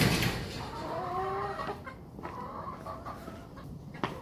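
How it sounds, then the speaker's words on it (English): Several chickens cluck in short, warbling calls close by, with a sharp click near the end and a steady outdoor hum underneath. "don't mind the chickens in the background"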